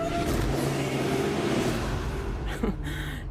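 A car fitted with an Edelbrock AVS2 carburetor accelerates hard, its engine roaring loudly and steadily while a voice talks over it, ending in a brief shift of pitch.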